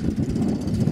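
An outboard motor on a Korsar Komandor 430 boat on icy Lake Ladoga runs in a steady, throbbing mid-pitched drone, close and even throughout.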